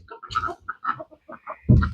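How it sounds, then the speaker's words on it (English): A duck calls in a short burst of bird sounds on a farm where chickens roam loose. Several brief chirps and clucks come first, and a louder, fuller squawk closes the clip. "Okay, I hear a duck."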